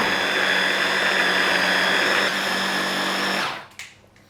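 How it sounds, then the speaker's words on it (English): A blender runs steadily at close range, whirring loudly as it purées ingredients with homemade olive oil, then winds down and stops near the end. "And then just blend. Blend down."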